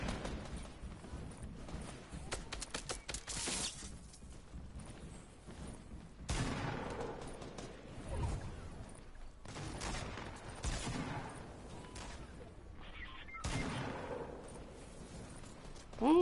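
Shotgun gunfire in a PS4 video game, several loud bursts at about 0, 6, 9.5 and 13 seconds, each with a sharp attack and a booming tail that overlaps the next, amid continuous game noise with no speech.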